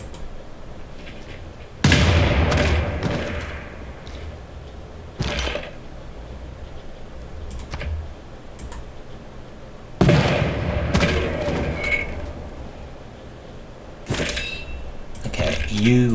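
Bombard siege units attacking in Civilization VI, several loud booming impacts with crackling tails recurring every few seconds, with talk in between.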